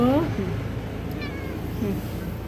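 Kittens give a high meow right at the start, with a couple of fainter mews later, close by in a quiet room under soft talking.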